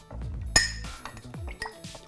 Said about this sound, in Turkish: Ve bunu birazcık kaşık yardımıyla karıştıracağım.